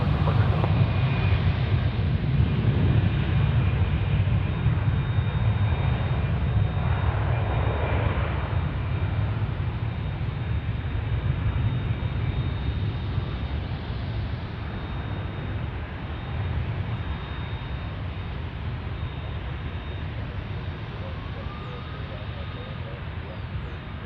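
Steady roar of jet aircraft departing runway 18 Left at DFW airport, a continuous engine rumble at a distance, with someone talking over it.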